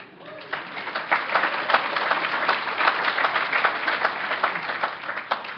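An audience at a regional sobriety roundup applauds with moderate, steady clapping in which individual claps stand out. A faint voice can be heard near the start.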